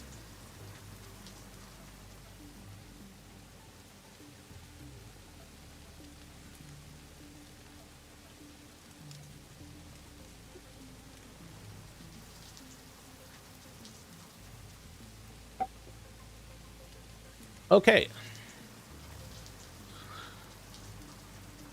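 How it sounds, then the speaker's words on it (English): Steady rain falls in the video game Satisfactory, a soft, even patter throughout, broken by a couple of brief sharp clicks near the end and a single short spoken word. "It's raining."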